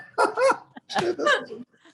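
Two young Labrador puppies bark and yip loudly nearby in a few short bursts while playfully scrapping indoors, with brief pauses between barks.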